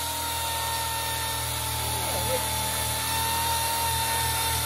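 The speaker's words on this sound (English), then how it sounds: "we started breaking the wire wheel, so it's getting all uneven" A wire wheel on a power tool grinds Bondo filler off a Honda Prelude body panel, a steady loud whine with a rough scraping edge that holds for the whole stretch, the wheel worn and uneven.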